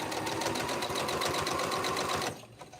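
A sewing machine stitches fabric mug rugs together, running in a steady, close, rapid whir for a couple of seconds before stopping abruptly into near quiet.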